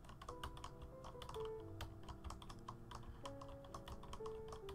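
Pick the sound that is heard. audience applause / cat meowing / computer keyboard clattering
computer keyboard clattering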